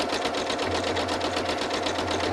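A sewing machine hums and clatters steadily while machine quilting a sampler block, a close, even rhythmic stitching with no pauses.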